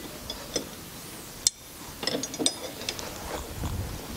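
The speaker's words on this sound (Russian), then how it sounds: "Еще раз проверяем центральную гайку." Wrench tightening the central nut on a front strut mount of a 2011 Toyota RAV4, giving a few light metallic ratchet clicks and clinks, close and fairly quiet.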